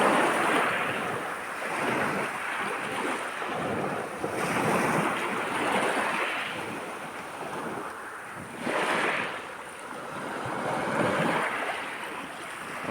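Sea waves wash onto the shore in Abkhazia on an early June morning, each surge rising and falling in a slow rhythm every few seconds, with steady wind rumble across the microphone and no voices.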